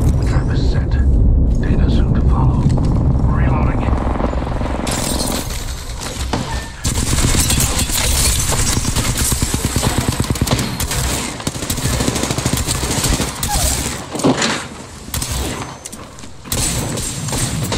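Enemy gunfire in Apex Legends, a dense, loud barrage of automatic shots and heavy thuds running almost continuously, close and overlapping, with a player's voice speaking over parts of it.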